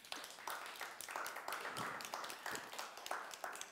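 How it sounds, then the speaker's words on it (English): Seminar audience at a body language show giving a round of applause: faint, fairly sparse clapping in uneven pulses, heard at a distance for a few seconds. "So give yourselves a big round of applause"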